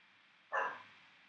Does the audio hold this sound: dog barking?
yes